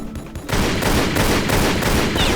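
Gunfire in the Tomb Raider Legend demake video game: a loud, dense burst of rapid shots starts abruptly and hammers on continuously, close and unbroken to the end.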